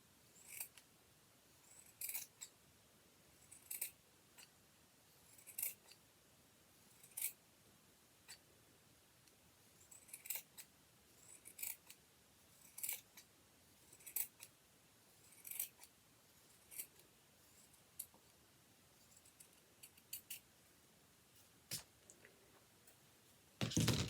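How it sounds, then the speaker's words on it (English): Scissors snip through a paper template for holiday gingerbread decor, about a dozen short, crisp cuts spaced every second or two, close and quiet, with no talk. "I'm just going to now cut that"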